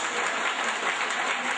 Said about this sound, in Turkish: alkışlıyor musunuz? Alkış.